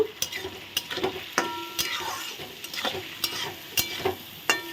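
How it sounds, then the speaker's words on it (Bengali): Peas being stirred into fried rice in a pan, a steady sizzle under frequent sharp spatula clicks and scrapes against the metal in an irregular rhythm, close and with no speech. "ফ্রাইড রাইসের মটরশুঁটিটাও এখন দিয়ে দিলাম দিয়ে এটাও নেড়ে নেব"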